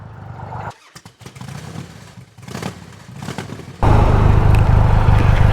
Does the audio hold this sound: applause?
no